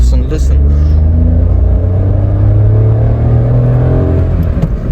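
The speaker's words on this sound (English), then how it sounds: "Oh, listen to that engine roar." A car engine roars under acceleration, a loud, deep, continuous drone with a rising pitch, heard close up from inside the vehicle.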